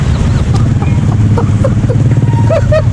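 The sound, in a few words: Honda Click motorcycle engine straining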